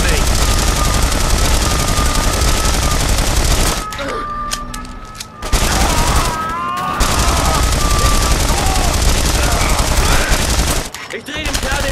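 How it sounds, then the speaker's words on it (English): Loud, sustained automatic gunfire in the video game The Saboteur, a dense fusillade that briefly drops out twice before resuming, with shouted voices mixed in. "Why you're shooting at me?"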